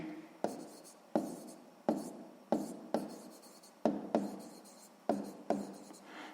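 Pen strokes scratch across paper as someone writes by hand while working a sixth-grade percentage maths exercise, about nine short, close, rhythmic bursts separated by brief pauses, with no other sound.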